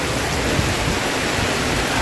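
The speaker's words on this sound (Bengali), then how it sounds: "আর বৃষ্টি হচ্ছে সেই আনন্দে" Rain pours down outdoors in a dense, even wash of noise, a heavy, continuous downpour with no breaks or voices.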